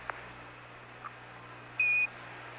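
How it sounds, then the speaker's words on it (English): A single short electronic beep from the Apollo 11 lunar module computer's program alarm sounds once, clear and steady, over a faint radio hiss with a couple of small clicks before it. "Give us a reading on the 1202 program alarm."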